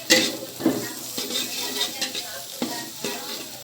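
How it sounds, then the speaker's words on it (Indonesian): Ingredients being stirred in hot oil in a pan for a Korean-style topping, with a steady sizzle broken by scraping spoon strokes and light clinks against the metal, close and fairly loud. "kita aduk sampai wangi ya."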